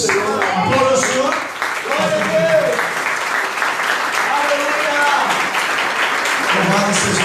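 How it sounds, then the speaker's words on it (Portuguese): A church congregation applauds during a Portuguese-language communion service, loud sustained clapping from a crowd filling the space, with voices speaking and calling out over it throughout. "Aplauda o Senhor."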